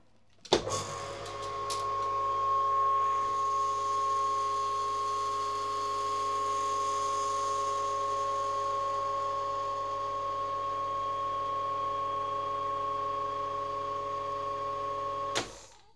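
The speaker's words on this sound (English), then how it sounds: "So we finished vacuuming, we're now going to return the chamber to air pressure, to atmospheric pressure." A Cryovac TurboVac vacuum packaging chamber holding two packs side by side runs its pump with a sharp start, then a steady mechanical hum with clear tones for about fifteen seconds before it cuts off with a click. The sound is moderately quiet, with no talking.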